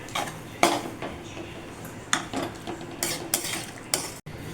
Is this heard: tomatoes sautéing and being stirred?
yes